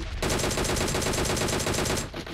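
Automatic gunfire in the mobile game PUBG Mobile, a loud, steady burst of rapid evenly spaced shots lasting about two seconds before stopping sharply.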